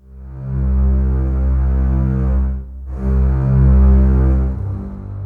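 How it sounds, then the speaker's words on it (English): Sixty cellos from a Zimmer strings library sustain a low, dense chord that swells, dips briefly and swells again, deep and full with no voices. "I used Zimmer strings, that's 60 cellos"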